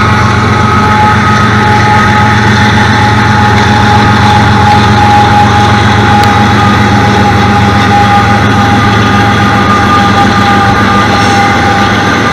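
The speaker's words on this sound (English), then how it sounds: "Long train." A long train rumbles steadily past, loud and continuous, with a deep engine drone and a sustained high whine over the rolling noise.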